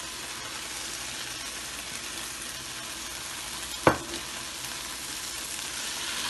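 Masala for palak gosht sizzles steadily in a kadhai with spinach and meat, with a soft continuous fry and stir, and one brief sharp clink partway through.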